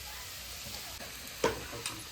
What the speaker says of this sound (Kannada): ಇವಾಗ ಎಣ್ಣೆಗೆ ಹಾಕ್ತಿದ್ದಾರೆ.